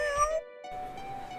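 A cartoonish cat meows in the video game Animal Jam, one clear tonal mew with a drawn-out trailing tone beneath it, close and clean, with no talking.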